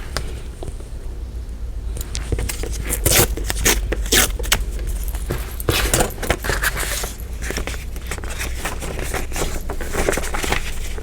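Scissors or a trimmer cutting paper scraps for a stacked-envelope journal page, a run of close, loud crisp snips and scrapes with paper rustling between cuts, no talking.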